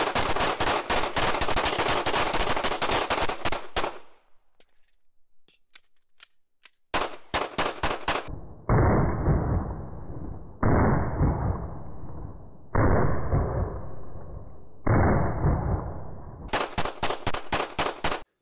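Loud bursts of rapid gunfire are fired at soft Level IIIA body armor on a dummy. Long strings of shots are broken by a quiet pause, then come several shorter rapid volleys.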